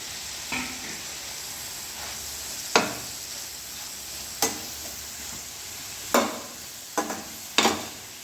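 Sardine roe and spinach fried in a pan, with a low continuous sizzle and several sharp, clear spoon scrapes and knocks against the pan at irregular intervals, close up and without speech.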